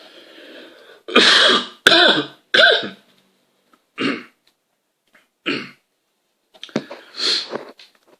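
A person coughs repeatedly in harsh, separated bursts, with short pauses and throat-clearing between them, close and loud.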